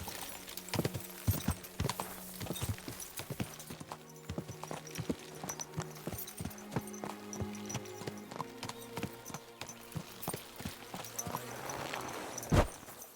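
A horse walks at a steady pace, its hooves clip-clopping in an even rhythm close by, with a brief snort near the end and no talking.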